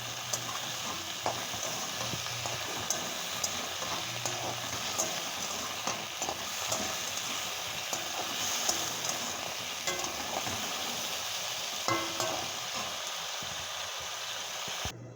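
Potatoes frying in hot oil in a home kitchen, a steady loud sizzle and crackle that runs unbroken, with occasional scraping and stirring clicks, close up and with no talk.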